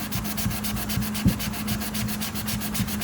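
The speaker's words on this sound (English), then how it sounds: "with it being soft pine or pine, softer wood, you don't need an aggressive sandpaper" Hand sanding of a soft pine guitar body with roughly 120-grit sandpaper, a steady rhythmic back-and-forth rasp of even strokes, close and continuous.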